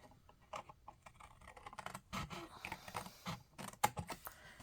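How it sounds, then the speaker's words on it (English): Scissors snip through paper and cardstock for a Stampin' Up paper craft project, giving a close run of crisp, irregular cutting clicks and scrapes with no talking. "see where the groove is, my scissors, can you hear that?"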